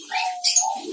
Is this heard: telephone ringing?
no